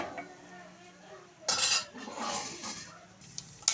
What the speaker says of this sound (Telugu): కర్బూజా గింజలు కూడా వేస్తున్నాను నేను దీంట్లో.